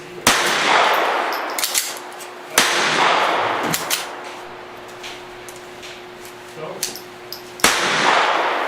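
Sharp .22LR pistol shots from a GSG 1911 firing Winchester 333 hollow point rounds, four distinct reports spaced irregularly, each with a bright crack and short ringing tail over faint background noise, with smaller clicks and clanks between.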